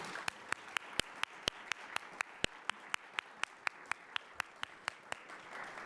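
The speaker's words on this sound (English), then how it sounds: "Let's give them all a round of applause." Applause for the speakers at a Columbus Metropolitan Club downtown forum, heard as a quiet, steady train of individual sharp claps at an even, brisk rhythm over faint room ambience.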